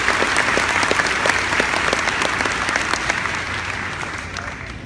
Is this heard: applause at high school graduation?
yes